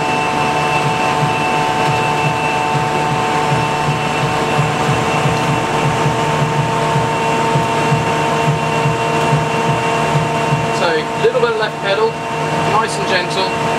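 Engines of an A320 flight simulator spool up to full takeoff thrust, a steady loud whine and roar with sustained tonal hum that continues evenly, with a voice talking briefly near the end.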